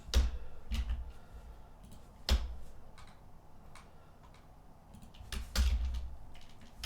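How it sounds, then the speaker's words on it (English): Scattered keystrokes clatter on a computer keyboard, with irregular sharp taps and small pauses, fairly faint and close, with no talking. "When I'm done typing this out"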